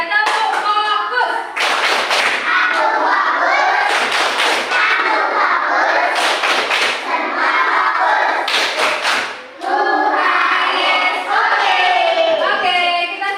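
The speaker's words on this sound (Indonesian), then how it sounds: "Supaya lebih fokus lagi kita tepuk fokus dulu yuk. 1, 2, 3, tepuk fokus." A group of people performs the 'tepuk fokus' focus clap, bursts of loud rhythmic clapping repeating several times at close range with voices chanting along, in an Indonesian classroom setting.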